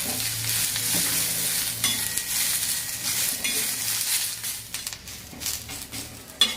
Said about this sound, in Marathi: कांद्याला थोडंसं तेल टाकू म्हणजे कांदा लगेच लाल होतो बघा